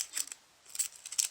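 Scissors snip through packaging while a slime charm is being prepared, giving two or three short, crisp, close cutting sounds separated by brief pauses.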